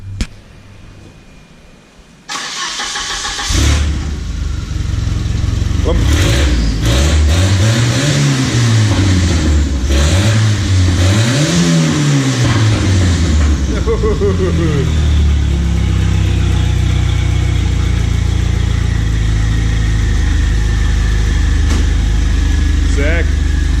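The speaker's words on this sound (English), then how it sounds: "we're gonna get Scott to start this up and we'll chuck some big revs" A Volvo car engine cranks and catches, then settles into a rough idle before being revved hard in several rising and falling sweeps. It drops back to a loud, steady idle, recorded up close.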